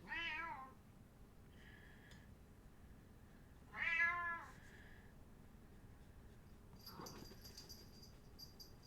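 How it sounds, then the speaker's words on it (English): A cat meows twice, close and clear, a few seconds apart, with quiet room noise between the calls. "She's pulling on my curtains and yanking at the cat, Shadow."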